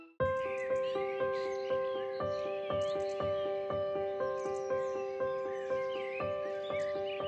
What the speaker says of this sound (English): The sound of the birds woke Mr. Fox up.